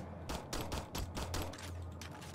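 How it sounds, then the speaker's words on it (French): A quick string of about eight sharp gunshots in the zombie shooter Girls Guns and Zombies rings out in a tight, rhythmic burst, loud and close with no voices. "je tire dans le pneu"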